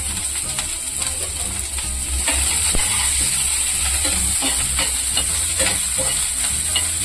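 Onions sauté loudly in a hot pan for cabbage poriyal with dried red chillies and green chillies, a steady dense sizzle running throughout, broken by scraping stirs and small clicks of the spoon against the pan.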